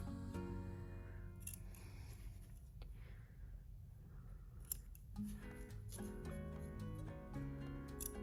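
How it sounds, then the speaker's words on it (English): Scissors snip the corners of a sewn fabric key pouch almost up to the stitch, a series of crisp close cuts over faint background hum. "we're gonna also snip the little corners almost up to the stitch"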